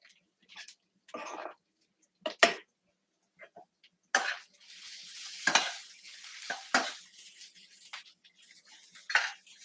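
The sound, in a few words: food stir frying in a pan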